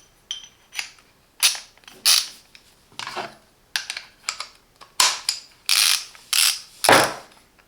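ETOOLAB TW230N torque wrench with socket extension, producing a series of sharp metallic ratchet clicks and locking snaps, close and loud, in irregular bursts with short pauses between them.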